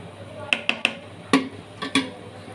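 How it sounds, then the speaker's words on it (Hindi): A spoon clinks a few times against a pot of rasgullas simmering in sugar syrup, three quick light taps followed by a couple of softer knocks, with faint kitchen background. "और इसे स्पून से थोड़ा सा हिलाएंगे हल्के हल्के, ताकि ये टूटे ना"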